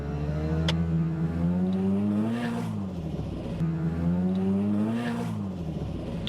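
A car engine revs up and climbs in pitch twice in a row, loud and close, with a rough, straining roar, as the clutch is released for a launch at about 4,000 rpm with tyres spinning.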